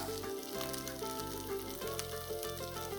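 Ginger-garlic paste and asafoetida frying in oil for a fresh green peas sabji, a soft sizzle mostly buried under steady background music with sustained tones.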